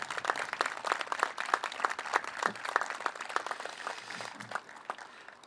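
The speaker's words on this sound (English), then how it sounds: "Could have a round of applause for them." Town meeting audience applauding first responders (police, fire and EMTs), a dense, steady crowd clapping that carries on for several seconds at moderate loudness, with no talk over it.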